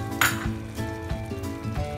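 Aloo capsicum curry of potato and bell pepper simmering in a pan, with a steady soft sizzle and bubbling plus a few scraping stir strokes, close and alone without talk.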